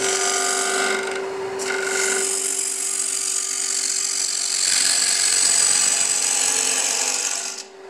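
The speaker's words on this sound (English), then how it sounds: "Take my 3/8 bowl gouge and I'm going to start scooping material out." A 3/8 bowl gouge scooping material out of spinning wood on a lathe for a cigar ash tray, a continuous close rasping scrape over a steady motor hum, briefly easing and then intensifying before stopping at the end.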